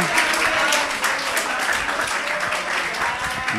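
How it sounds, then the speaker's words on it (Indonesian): A crowd at an Islamic study session on the kitab Ummul Barohin applauds in a steady, dense wash of clapping with faint voices mixed in, sustained for several seconds. "Kasih tepuk tangan dulu biar rame"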